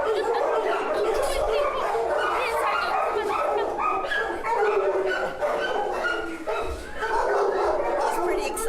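An excited, high-energy dog at an animal shelter keeps up a run of whimpers, yips and barks close by, loud and nearly continuous, with shelter noise around it.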